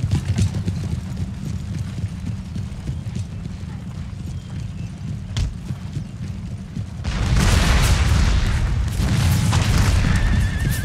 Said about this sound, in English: Come on, mortars.